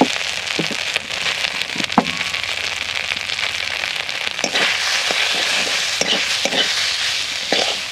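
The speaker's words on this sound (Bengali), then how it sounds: "এবার এই আলুগুলো দিয়ে দিচ্ছি" Potatoes hit a pan of ginger and green chilli paste, then a steady sizzle and hiss runs under scraping stir strokes and occasional clinks of a spoon, close and without talk.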